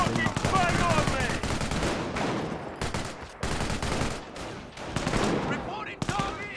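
Machine gun emplacement firing in the World War II strategy game Company of Heroes, dense rattling bursts amid a busy battlefield of other gunfire, with spoken voices mixed in and brief lulls between volleys.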